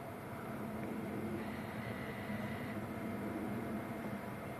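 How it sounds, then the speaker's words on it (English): A Virgin A330 airliner taxis out at Manchester Airport, its engines a faint, steady, distant whine and rumble under a broad wash of background noise. "the second Virgin is taxiing out as well, the A330"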